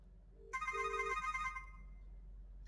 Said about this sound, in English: So I'm going to ring on my phone.